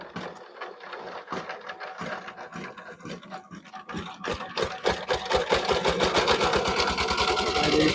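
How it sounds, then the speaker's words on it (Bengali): Small power tiller engine being started in a farm field: uneven cranking pulses that pick up into a fast, regular thumping putter as the engine catches and runs louder, close by. "এই যে আমার রকিব কাকা এখন স্টার্ট দিবে মেশিনটা"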